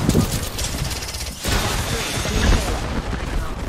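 Rapid gunfire in the Apex Legends video game rattles on continuously, loud and dense, with a brief dip before the firing picks back up.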